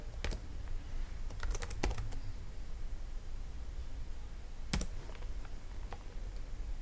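Quiet keystrokes on a computer keyboard come in short clusters of sharp clicks over a low background hiss, with a long lull before a final couple of taps.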